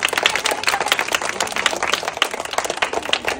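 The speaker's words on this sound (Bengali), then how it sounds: "হাততালি হোক সবার জন্য, হাততালি হোক" An audience claps together, a dense, steady patter of many hands, fairly loud and close, with no break.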